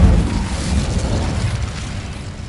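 Incendio fire spell cast in the Hogwarts Legacy game on PS5, a loud low whooshing burst of flame that roars and rumbles steadily, then tails off slightly.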